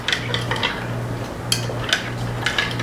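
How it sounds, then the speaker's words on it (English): A spoon stirs a tablespoon of sugar in a pot, with soft irregular scrapes and light clinks against the metal and a steady low hum behind, no voices. "A tablespoon of sugar. We want to stir this until it's dissolved."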